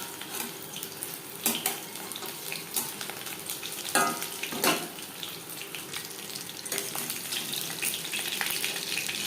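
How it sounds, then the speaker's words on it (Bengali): Chicken pakoras deep-frying in hot oil over a medium flame, a steady crackling sizzle that runs throughout with a few louder bursts of spatter, heard close up with no talking. "তেল গরম করে নেওয়ার পর পকোড়া ভাজবো মিডিয়াম ফ্লেমে"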